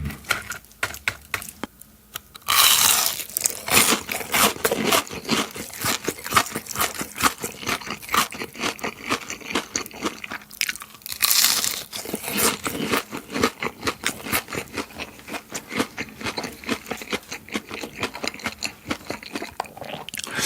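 Crunchy fried shrimp tempura bitten and chewed up close, a dense run of loud crackling crunches with sharp bites standing out, steady chewing throughout and no talking.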